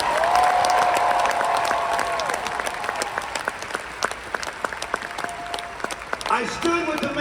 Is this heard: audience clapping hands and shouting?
yes